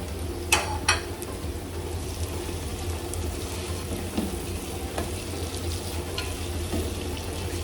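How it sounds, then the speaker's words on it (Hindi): Four small chopped tomatoes dropped into browned masala in a hot pan set up a steady loud sizzle and crackle, with a couple of sharp utensil clinks near the start and occasional stirring scrapes. "तो अब इस स्टेज पे हमने छोटे वाले 4 टमाटर चॉप करके रखे थे, वो अब हम इसमें डाल देंगे।"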